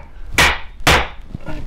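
Two heavy, close thuds as a drill bit is hammered into a wooden French cleat while hanging upper cabinets in a workshop, followed by a fainter knock.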